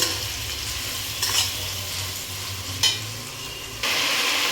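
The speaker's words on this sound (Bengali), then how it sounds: "এবার দেবো রসুন বাটা ভালো করে দু তিন মিনিট নাড়াচাড়া করে নেব" Garlic paste frying in a pan for mutton liver curry while being stirred, a steady sizzle with a couple of sharp scraping strokes and a louder burst of hissing near the end, heard close with no talk.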